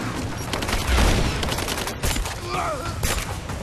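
Gunfire in the Rise of the Tomb Raider video game, a dense burst of shots with a heavy low boom near the middle, followed by scattered pops under game sounds.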